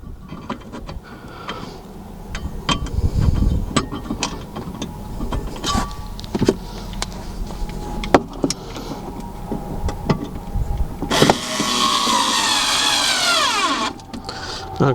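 Screws and bolts are tightened with tools while a Lock'er Down Model 2011X security plate is installed: scattered sharp clicks and knocks, then a steady whirring grind of a power tool near the end, close by with no talk.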